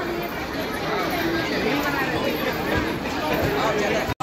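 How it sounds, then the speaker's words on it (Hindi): A large crowd outside a railway station fills the air with dense, continuous chatter and babble, close and loud, with overlapping voices blending into a steady hubbub. "आप लोग देख सकते हैं कितनी ज़्यादा भीड़ है"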